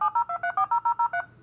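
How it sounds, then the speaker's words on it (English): A dial-up modem wired to a telephone line simulator dials a phone number: about ten rapid, evenly spaced touch-tone beeps, loud and close, with no talk. "the modem's gonna dial a number"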